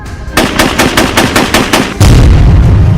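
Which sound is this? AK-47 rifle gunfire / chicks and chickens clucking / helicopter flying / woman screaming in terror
AK-47 rifle gunfire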